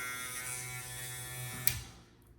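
Kemei KM-90-4 hair clipper with a brushless motor buzzing steadily at close range, fairly loud with a bright tonal hum, then a click as it switches off and the buzz fades out.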